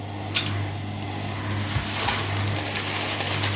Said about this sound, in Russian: Ты пока, зритель, послушаешь эту стиралку